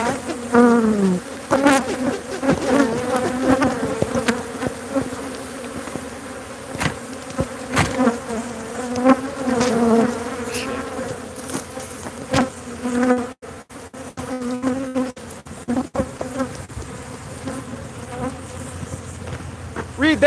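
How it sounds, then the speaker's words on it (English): Swarm of honeybees buzzing indoors, a dense continuous drone of many wings with individual bees passing close and loud, intermittent clicks and knocks, no speech. "They're just honeybees."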